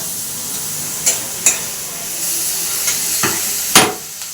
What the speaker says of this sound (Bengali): মশলাটা একটু কষে নিই ভালো করে